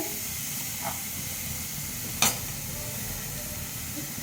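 Coconut sizzles in a hot karahi as the filling for mung puli starts cooking, a steady soft frying hiss throughout with one brief sharper crackle partway through.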